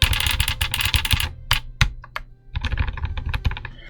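Rapid, continuous typing on a YMDK M0110 classic Mac keyboard replica with a solenoid, dense clacking keystrokes up close, a brief pause midway, then more bursts of keypresses.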